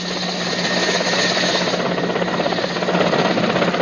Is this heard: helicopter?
yes